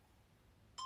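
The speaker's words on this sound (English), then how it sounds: "Is that my phone?" A phone ringing in a room, heard as a short electronic tone that cuts in suddenly near the end after a quiet stretch.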